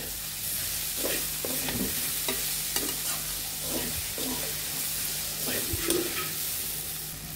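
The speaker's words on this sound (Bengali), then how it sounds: "এখন আমরা ভেজে রাখা মাছগুলো দিয়ে দিব। এখন ভালোভাবে কষিয়ে নিতে হবে।" Fried kachki fish with tender stems being stir-fried in a pan for a Bengali chorchori, a steady sizzle with rhythmic scraping strokes of the spatula, close and fairly quiet.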